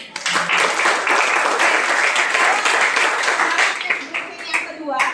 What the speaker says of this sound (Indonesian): Oke, aplaus untuk semuanya.